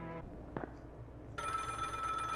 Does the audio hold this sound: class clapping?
no